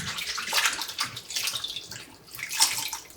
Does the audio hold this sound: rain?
no